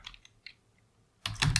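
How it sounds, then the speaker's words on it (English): Computer keyboard clattering as someone types, with a few scattered soft clicks followed by a louder, denser burst of keystrokes near the end, close and alone. "you will hear my keyboard clattering in the background"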